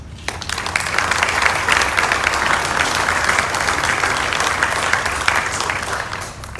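An audience at a Veterans Day celebration applauds to welcome a speaker, a loud, dense and sustained clapping that fills the room and holds steady before tapering off at the end.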